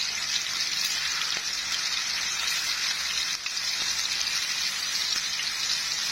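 Kofta meatballs frying in a shallow layer of oil in a pan, giving a continuous even sizzle and crackle at close range for the whole stretch, with no voices.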